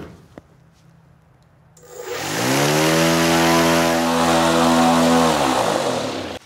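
A propeller driven through a CNC-machined alternator hub, likely on a paramotor, spools up from idle to full throttle, a loud close roar with a rising then steady harmonic drone that holds for several seconds.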